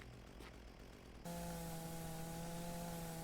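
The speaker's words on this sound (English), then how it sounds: "Yes, because this is how chainsaws work." A chainsaw in the video game Mon Bazou starts up after a quiet stretch of faint background noise, then holds a steady, buzzing engine drone at fairly low volume until the end.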